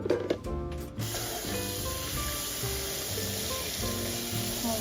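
Running water from a kitchen tap splashes steadily while eggs are washed by hand, a constant close hiss with light rubbing and handling sounds over it and no talk.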